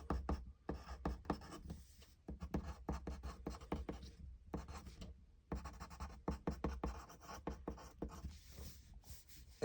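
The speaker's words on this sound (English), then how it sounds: "I'll write that down." A pen or pencil writing and drawing on paper, quick scratchy strokes in bursts with short pauses, close and fairly quiet, no voices.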